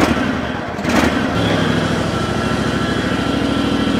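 A small ride-on lawn tractor engine cranks briefly, then catches and settles into a loud, steady, rapid putter close by, with no talking.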